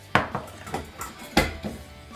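A cooking pot is handled on a kitchen counter for making oat chips, giving several sharp metallic knocks and clanks in an uneven rhythm, close and clear, with no talking.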